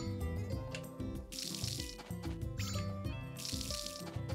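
In the farming game Story of Seasons: A Wonderful Life during winter, a watering can splashes onto crops in two brief bursts, partly masked by continuous game music.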